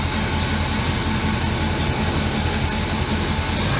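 A 1979 Chevy square body pickup engine idling just after startup, a loud, steady rumbling drone with a constant low throb and no pauses.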